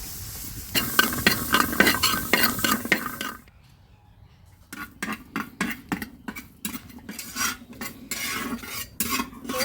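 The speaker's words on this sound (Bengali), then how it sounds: "আজকে আমরা রসুন এইভাবে ভাজবো তেল ছাড়া" Garlic cloves tossed dry in a pan without oil, with rapid rattling and metallic scraping as they are stirred, then a brief lull before the clattering stirring resumes, close and loud.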